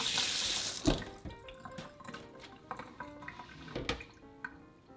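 Water runs from a tap into a soup pot holding chicken feet for a spicy pepper soup: a strong pour at first, then scattered drips, splashes and clinks at close range.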